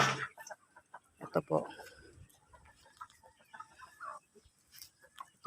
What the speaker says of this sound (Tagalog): Ito pa lang yung mga manok namin na nangingitlog.